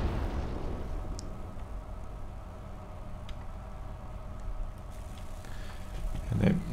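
Mortar fire in Company of Heroes 2 as mortar teams pound infantry, a low rumbling battle din with a few sharp cracks and a heavier, louder blast near the end.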